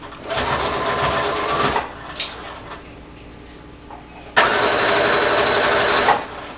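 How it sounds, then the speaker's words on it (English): Sewing machine stitching across ruffles on a summer romper, a loud rapid mechanical whir in two bursts separated by a short quiet pause with small handling noises, close up. "And we're sewing right over those ruffles."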